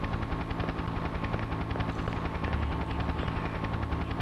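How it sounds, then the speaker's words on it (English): An attacking helicopter in the video game Shadow Man gives a continuous, fast rhythmic rotor chop with a dense mechanical roar, steady and moderately loud throughout. "In this game, the chopper gets to you."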